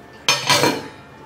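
A metal lid is set onto a pot holding soaking sago for homemade vadagam: one sharp clattering clink followed by a second rattle, close and alone, ringing briefly before fading.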